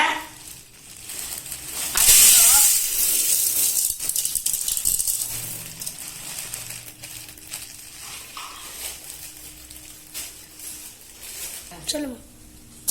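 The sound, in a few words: chana dal poured into pan and roasting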